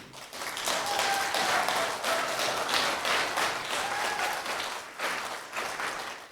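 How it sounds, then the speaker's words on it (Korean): An audience at a Map Day presentation applauds a former consul general and author, a moderately distant, sustained patter of many hands clapping that swells and then tapers off toward the end. "한번 박수 크게 한번 쳐주세요"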